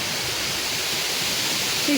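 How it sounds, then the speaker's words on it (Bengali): Steady, dense rushing noise of strong storm wind blowing continuously, close and loud, with no voices. "সেই পরিমাণে বাতাস উঠছে"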